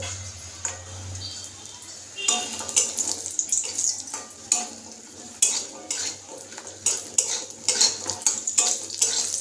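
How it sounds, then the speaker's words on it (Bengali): Bori lentil dumplings frying in hot oil while the cook works with a pan, a hiss under frequent clinks and scrapes of a utensil, with a few brief muffled voice sounds in the background. "তো এখানে তেলটা গরম হয়ে গেছে, এবার আমি বড়িগুলো ভেজে নেবো।"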